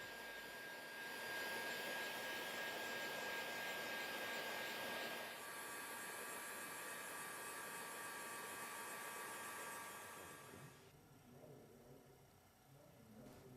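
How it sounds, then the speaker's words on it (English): A heat gun blows a steady, faint rushing stream of air while vehicle wrap film is applied, a continuous hairdryer-like whoosh that shifts slightly in tone midway and then drops off near the end. "The reading point is directly behind the flow of air from the heat gun."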